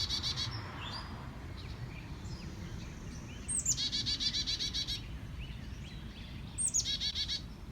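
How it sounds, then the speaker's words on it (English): Black-capped chickadee calling beside its nest in a birdhouse next to a school, two bursts of rapid, high chattering notes over a steady low outdoor rumble, fairly close and fairly loud, with fainter bird calls between. "Check out this black-capped chickadee who has built a nest in one of the birdhouses right next to the school."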